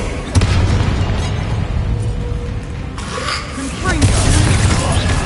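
A Confringo blasting spell explodes in the game Hogwarts Legacy, with loud, heavy booms and bursts at the start and again near the end, amid dense noise and a voice speaking.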